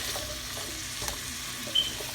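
Chopped vegetables for Japanese curry fry in a pan with a steady, close hiss and crackle, a faint scrape of stirring now and then, and no voices.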